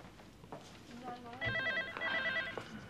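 A telephone rings faintly with a warbling electronic trill in short repeated bursts, heard beneath quiet voices in the room.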